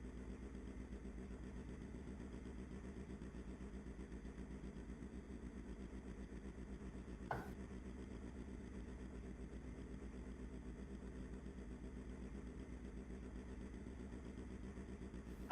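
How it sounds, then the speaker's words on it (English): Engine of a 1970 Alfa Romeo GTAM in the Assetto Corsa racing game, a steady low mechanical drone held constantly throughout, fairly quiet, with one brief click midway. "I need to turn on this car's engine actually"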